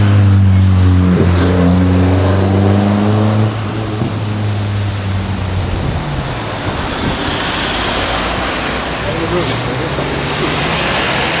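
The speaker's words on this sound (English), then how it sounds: "there's a lot of traffic now, as you can see" Busy road traffic at the Grove Lodge roundabout, a steady broadband roar of passing cars with engines revving low and rising, continuous and fairly loud throughout.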